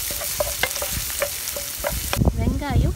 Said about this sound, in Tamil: வெங்காயம் பொன்னிறமாக வறுத்தாச்சு,